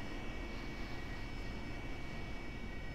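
Steady, loud jet engine roar and whine from an aircraft taxiing toward the runway in the DCS flight simulator video game, a continuous broadband rumble with a thin high tone and no talk over it.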